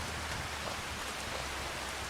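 Steady broadband rain showers fall in the farming video game Farming Simulator 25, a constant even hiss of drops on surfaces that fills the whole stretch without any voices or breaks.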